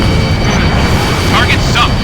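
A missile launches and explodes in the air-combat video game Ace Combat Infinity: a dense, rumbling boom that holds for a couple of seconds, with a brief radio voice breaking through near the end.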